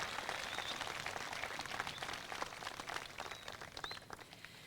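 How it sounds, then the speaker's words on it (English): Audience applause at a 2023 Live Oak graduation ceremony for the student speakers, a steady dense wash of clapping from a crowd, fairly distant and soft, holding throughout and tapering slightly at the end. "can we have one more round of applause for all of our student speakers?"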